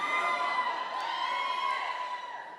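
Audience cheers and whoops at a Black Sabbath live album release hangout event, a steady, fairly distant crowd roar of mixed voices that holds for a few seconds and then fades slightly.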